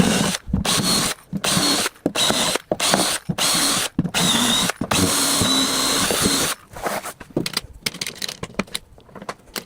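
Power drill turning a doghole reamer through workbench dog holes, loud repeated whirring bursts of about half a second each, separated by short pauses, with ratcheting clicks toward the end.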